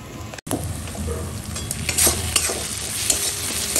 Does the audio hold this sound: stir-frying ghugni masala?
yes